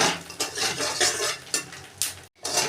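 Cinnamon, cardamom and cloves fry in hot oil left over from frying eggs, giving a close, crackling sizzle broken by repeated metal scraping and clanking of a spatula against the pan, then a brief cutoff.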